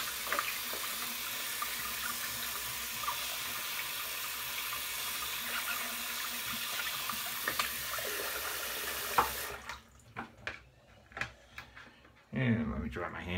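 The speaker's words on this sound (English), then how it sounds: "Rinse the handle off here real quick." Tap water runs steadily into a sink while a razor handle is rinsed under it during a shave, a continuous loud splashing rush for about nine seconds before shutting off, followed by scattered handling noises.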